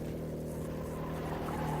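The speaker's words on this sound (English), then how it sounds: "keeping the engine revs is so crucial, especially in these lower horsepower cars." Low-horsepower racing car engine in a PC racing game, held at a steady high drone with a constant buzzing tone and no breaks.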